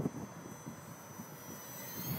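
An FMS P-47 800mm radio-controlled model airplane flies close by, its electric motor giving a steady, moderately loud whine and drone that swells slightly at the start and end, with no talking.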